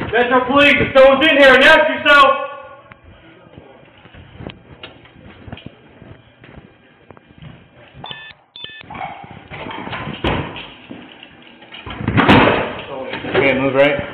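Doors bang open and slam shut in a building as Las Vegas Metro Police officers clear rooms, sharp thuds scattered through the scene, with shouted speech at the start and voices mixed in near the end.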